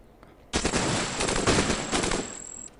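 Weapon fire in the game Cogmind: a single loud, continuous burst of rapid shots lasts about two seconds, with a thin high ringing tone running through it, then cuts off abruptly.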